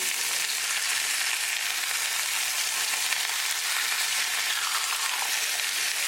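Chicken breast sizzling in a pan on medium-low gas just after being flipped, a steady dense crackling hiss, close and even throughout, without speech.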